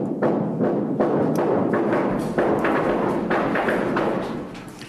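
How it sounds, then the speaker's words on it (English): An underground silver mine blast heard as a rapid, uneven series of dull booming thuds that rumble on for several seconds and then fade slightly. "when they shoot a blast like that"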